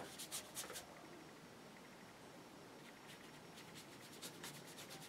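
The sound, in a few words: brush scrubbing watercolour paint on paper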